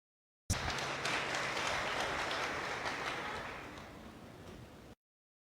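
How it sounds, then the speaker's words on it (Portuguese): Applause from a congregation during a novena sermon in church, a dense wash of clapping that begins abruptly, stays steady, then gradually thins and softens before cutting off, heard from some distance. "uma salva de palmas para elas"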